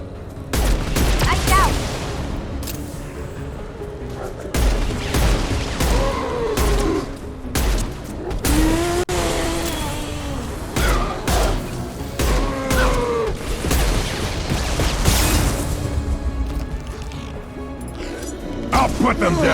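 Mass Effect 2 gunfire, with repeated shots and bursts cracking over a loud battle scene, mostly under excited talk and game voices that shout over much of the fighting.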